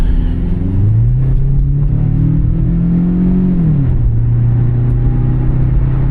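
A Toyota RAV4 engine revs hard under heavy throttle, a loud steady drone that climbs in pitch for several seconds, drops off sharply, then settles into a lower sustained hum inside the car.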